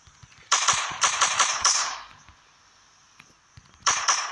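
Quick clusters of video game gunshots crackle in short volleys, a string of rapid shots followed by a quieter gap and then another burst, with no talking.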